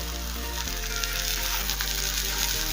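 Ground turmeric, cumin, coriander and Kashmiri red chilli powder frying in a pan with chicken make a loud, continuous sizzle over a low steady hum, with a faint stir or two.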